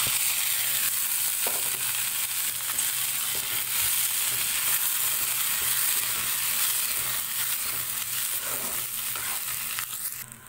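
Ginger garlic paste frying in a hot pan, a steady close sizzle with light crackle and stirring, continuous and alone with no talking.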